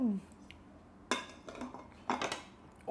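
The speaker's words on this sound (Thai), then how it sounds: "เราก็ต้องเก็บจานล้างจาน" Dishes and cutlery cleared and washed after a meal, with a few sharp clinks and clattering scrapes of plates and utensils in two bursts amid quiet background.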